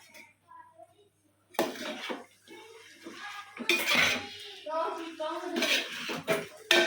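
A spoon stirs chicken perattu in a pan, giving bursts of scraping and clattering metal with short pauses between them, and a voice talks at moments.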